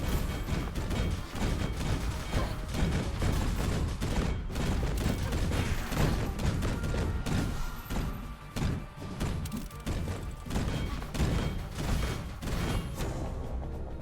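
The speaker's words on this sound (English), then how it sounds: "Turrets went crazy right there for us." Turrets in the action roguelite Cinderia fire in dense, rapid volleys of thumping shots mixed with impacts, a busy, loud barrage that keeps going without pause for over ten seconds.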